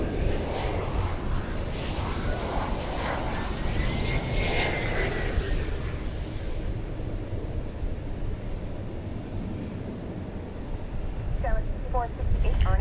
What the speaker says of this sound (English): Here comes another large jetliner. This is another 777.